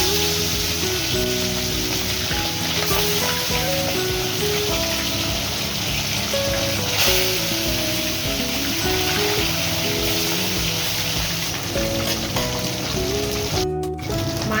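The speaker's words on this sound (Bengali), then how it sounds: "কড়ার মধ্যে তেল দিয়ে দিয়েছি ভেজে নেব মাছগুলো" Bata fish coated in salt and turmeric frying in oil in a wok, a steady dense hiss under a loud, continuous wash of sound, with a brief crackling burst near the end.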